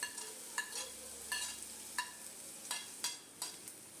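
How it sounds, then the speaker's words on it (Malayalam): Beans and carrots fry and are stirred in a pan for egg noodles, with a steady crackling sizzle broken by sharp, irregular clinks and scrapes of the spatula against the pan. "ബീൻസ് ഒന്ന് മൂത്ത് വരുമ്പോഴത്തേക്ക് നമുക്കതിനകത്തിലേക്ക് ക്യാരറ്റ് ഇട്ട് കൊടുക്കാം"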